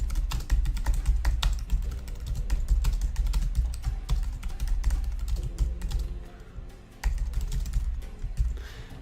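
Rapid clicking of keys on a computer keyboard, continuous typing with brief pauses, close to the listener.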